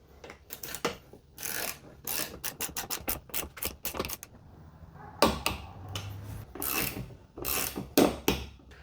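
A torque wrench works on the roof rack mount bolts of a Suzuki Jimny, giving close clicking ratchet sounds in quick bursts, with metallic rubbing and handling noises between them and no voices.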